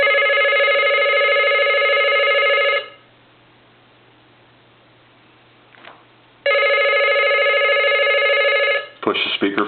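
A Crosley wood wall telephone's bell rings loud and close in two sustained bursts, the second after a quiet pause of a few seconds, followed by a short clatter.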